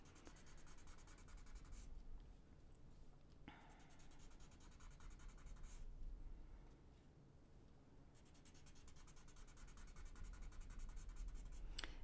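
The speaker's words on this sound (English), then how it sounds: "So I'll take my Tortillion and do that." Tortillion blending stick rubbing graphite pencil shading on a small paper art tile, giving a soft, continuous scratchy rub in short strokes with brief pauses, close and quiet with no talk.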